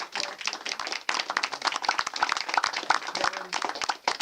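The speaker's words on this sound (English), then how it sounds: "I'd like them to stand up and a round of applause." An audience at a bookshop author event applauds, a dense stretch of hand clapping that continues steadily at moderate loudness.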